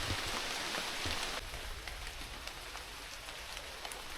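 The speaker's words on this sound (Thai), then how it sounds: "ฝนตกตัวนี้ทุกคน" Steady rain falls in a forest, a dense even hiss of drops spattering on leaves and ground, with a few louder close drips and no voices.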